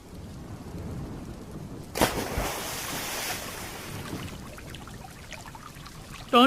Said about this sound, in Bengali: জালটা কোথায় ফেলবো? এখানেই ফেল, একটু গভীরে ফেল।